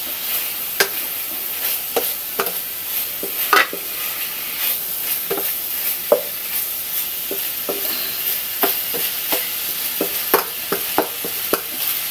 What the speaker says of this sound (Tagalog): Stir fry chicken breast, may mix siya ng konting pork.